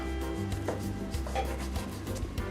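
A knife slicing set butter shortbread into cookie-size pieces, giving soft scraping and rubbing cuts against a board, with faint taps, under a steady background hum.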